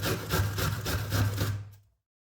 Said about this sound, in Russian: И просто натру одну луковицу на терке.